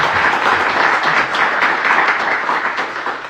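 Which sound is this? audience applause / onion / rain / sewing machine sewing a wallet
audience applause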